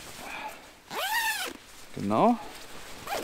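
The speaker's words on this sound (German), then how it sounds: "Und den Reißverschluss kann ich einfach zuziehen." A Helikon-Tex Swagman Roll poncho's zipper is pulled closed in two quick, rising zips, close and clear, with brief talk before and after.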